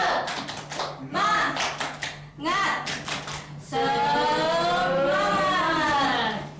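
A classroom group performs a rhythmic patterned clap, sharp bursts of hands in quick sets separated by short pauses, then a voice talks while a steady hum runs underneath.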